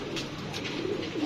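Healthy, active pigeons coo softly inside a coop, with low, steady warbling calls that continue throughout against a constant background hum.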